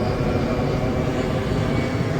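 A LATAM Boeing 737 airliner passes overhead near Aracaju, a steady broad engine roar that holds at an even level throughout.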